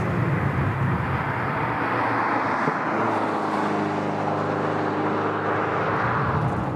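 A Porsche 944 Turbo's engine pulls hard under power through a corner, a loud sustained roar with a rising, shifting tone midway as the car accelerates out of the bend.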